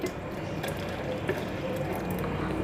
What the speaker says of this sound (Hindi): अब हम इसमें मज़ीद पानी ऐड करेंगे